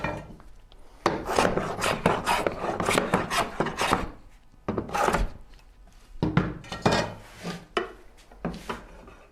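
Hand smoothing of wood on a Shaker Enfield cabinet: close, loud rasping strokes in repeated bursts, each a coarse scrape separated by short pauses, with an occasional light thunk and no talk.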